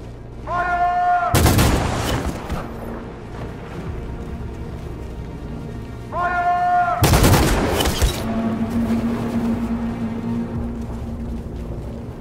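Two massive volleys of rifle fire from a line of soldiers shooting at protesters in Detroit: Become Human, each a sharp, loud crack followed by a long, rolling echo, with tense droning music underneath.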